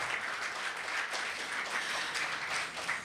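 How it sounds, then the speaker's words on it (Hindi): An audience at a Christian media gathering claps steadily for about three seconds, a soft, even patter of many hands heard from a distance, with no voices over it. "अगर आप तालियां बजाएंगे तो हमें महसूस होगा कि आप हमारे साथ हैं"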